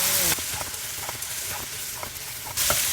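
Glass noodles, rinsed and still wet, stir-fried in a thick frying pan: a steady soft sizzle with scraping and stirring strokes, close and moderately loud, with no one talking.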